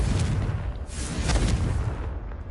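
A Confringo blasting spell in the Hogwarts Legacy video game erupts in a loud, low, rumbling explosion with crackling bursts that sustains and slowly fades over a couple of seconds.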